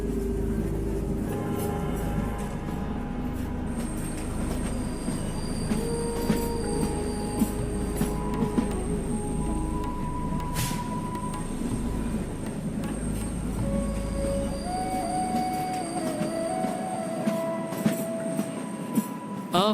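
A train on the Kalka-Shimla Railway in India rumbles along with a loud, steady low roar, rhythmic wheel clatter and repeated high metallic squeals from the wheels, with no talk.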